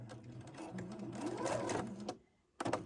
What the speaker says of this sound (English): We're sewing up both of the sides.